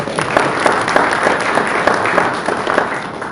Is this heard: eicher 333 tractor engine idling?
no